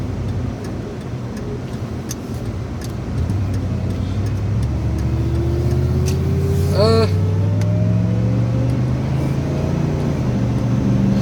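A 1994 Cadillac DeVille engine with a Flowmaster exhaust rumbles and revs, its deep, loud exhaust note rising in pitch as it accelerates, with a brief ticking sound partway through.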